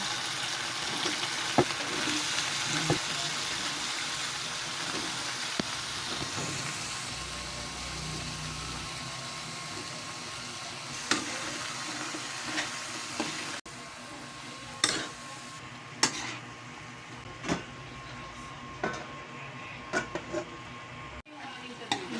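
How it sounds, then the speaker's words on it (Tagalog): Sardines and vegetables sautéing in virgin olive oil and coconut oil, a low, steady sizzle with scattered clinks and scrapes of a utensil stirring against the pan, faint and close. "Igisa na natin yung sardinas. Hulog na natin yung mga gulay natin."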